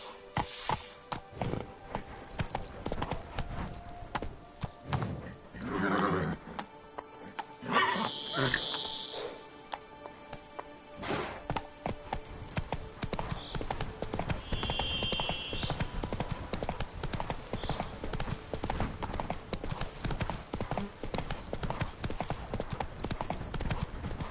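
Horse hooves clip-clop at a steady, brisk pace through the whole stretch in The Witcher 3 video game, with game ambience and a couple of short tonal sounds over the galloping.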